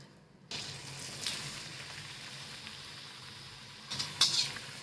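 Bajra flour masala puris fry in oil with a soft, steady hiss that starts abruptly and runs evenly, with a few brighter crackles and bubbling near the end.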